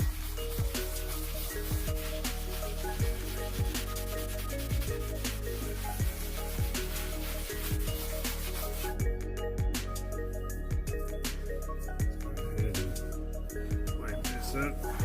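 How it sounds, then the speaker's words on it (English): Brushing and rubbing against a leather car seat while a stain is cleaned off, a steady close scratchy scrubbing texture running throughout with short pauses and a few sharp knocks. "the seat is getting a good scrubbing"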